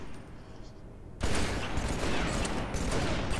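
Gunfire in the Halo 3 video game: after a quieter stretch, a dense burst of rapid shots erupts at about a second in and continues loud and crackling to the end.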